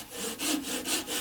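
A wood-turned piece, shaped toward a small sphere, being sawn off with back-and-forth strokes: four or so rasping bursts in steady rhythm, close and fairly loud, with no voices.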